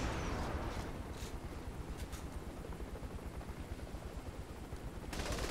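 Gunfire rattles in the Saints Row: The Third video game, quick rapid bursts of shots over a continuous low rumble, at a moderate, fairly distant level.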